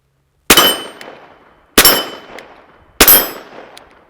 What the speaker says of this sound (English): So let's do a little more shooting.